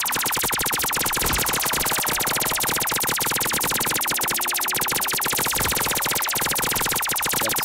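A PPSH submachine gun fires nonstop in Call of Duty zombies, a loud, dense rattle of rapid shots that runs without a break for the whole stretch.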